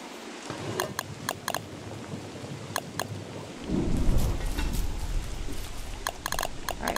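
Rain and thunder in the video game Don't Starve: steady rain with sharp repeated clicking taps, then a deep loud rumble of thunder rolling in midway and lingering under the pattering.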